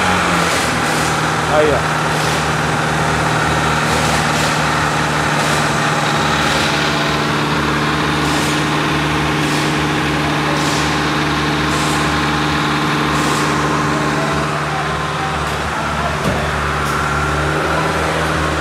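A Chevrolet S10 pickup engine runs with its 4x4 engaged, a steady low diesel-like rumble that holds close and loud throughout, with a person speaking briefly over it.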